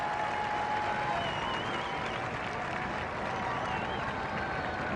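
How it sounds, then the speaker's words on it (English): A big crowd gathered outside Buckingham Palace for the Trooping the Colour procession claps and cheers in a continuous, fairly distant wash of applause. "the Queen acknowledges the support and the applause of the big crowd who gathered here outside"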